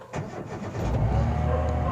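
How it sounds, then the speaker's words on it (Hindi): A car engine cranks briefly and catches, then settles into a steady idle, close and fairly loud with no talking. "यहाँ पर मैं गाड़ी को स्टार्ट कर लेता हूं पहले"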